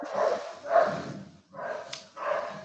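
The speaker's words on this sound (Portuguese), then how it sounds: "vamos prender esse cachorro aí, pelo amor de Deus" A dog barks nearby in a run of four heavy, rough barks with short gaps between them, loud and alone with no talk.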